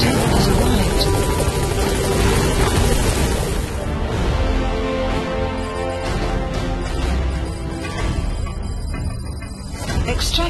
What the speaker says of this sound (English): Get in, boss. Helicopter has arrived.